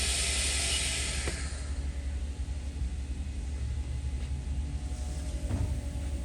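The main spindle of a 2011 HAAS OL-1 CNC office lathe spins at 2,000 RPM, a steady mechanical hum and hiss with low rumble, close and even, with a couple of faint clicks.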